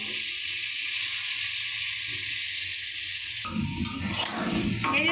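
Potatoes fry on a gas stove with a loud, steady hiss that turns rougher and busier partway through, as if stirred, close and continuous.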